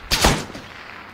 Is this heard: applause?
no